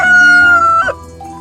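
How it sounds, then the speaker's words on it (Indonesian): A rooster crows once on a farm, a loud, close, drawn-out call that breaks and drops in pitch near its end, then fades into quiet. "Ayam jantan suka berkukuruyuk keras."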